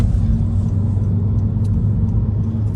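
Honda Civic Si with a 6-speed manual doing a burnout, a loud, steady low engine rumble and drone held close throughout with no letup.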